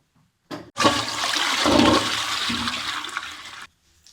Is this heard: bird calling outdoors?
no